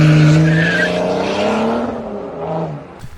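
Tuned BMW E70 X5 diesel fitted with a downpipe, a loud, deep engine note winding up and then fading over a few seconds, close by.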